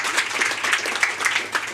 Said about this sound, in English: Applause for Franziska.